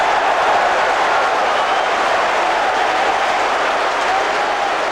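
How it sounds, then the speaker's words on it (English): Large football stadium crowd at a 1990/91 Nottingham Forest match against Chelsea, a steady loud roar of thousands of voices rising in reaction to an attacking chance, continuous and broad throughout with no single voice standing out. "listen to the crowd reaction"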